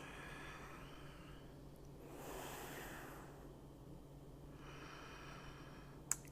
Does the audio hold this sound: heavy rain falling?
no